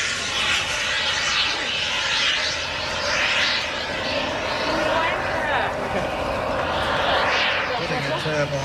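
A Blanik glider fitted with a turbine engine atop its fuselage roars past at an airshow, a loud sustained whooshing jet drone that swells and fades, under continuous commentary from a public-address announcer.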